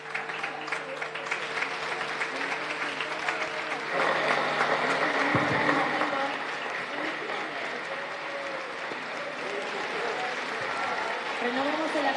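Audience applause at a progressive political gathering in Argentina marking 35 years of democracy, a dense steady clatter of many hands sustained throughout with crowd noise and a voice over the start.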